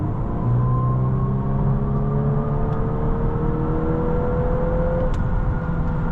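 Interior view of a 2024 Volkswagen Golf R accelerating hard, its engine note a steady, rising drone and whir under constant road rumble, with no talking.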